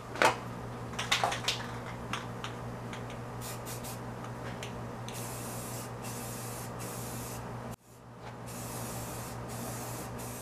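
A rattle can of spray paint, used on Massey Ferguson T20 tractor wheels, hisses in a long, steady spray after a few opening clicks and rattles, with a brief break near the end before spraying resumes.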